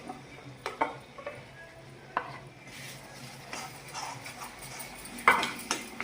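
Ground moong dal and rava fry in an iron pan with a soft, fairly quiet sizzle, broken by occasional clinks and scrapes of a spoon stirring against the pan.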